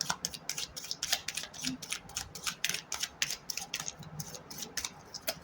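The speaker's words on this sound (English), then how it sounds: "Two more shuffles." Tarot cards being shuffled by hand, a quick run of crisp, papery flicks and riffles in a close, steady rhythm with short pauses between bursts and no talking.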